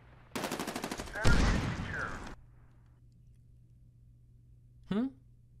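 Gunfire from the Medal of Honor Warfighter game comes as a loud rapid burst of automatic shots lasting about two seconds, followed by quiet and then a single short blast near the end.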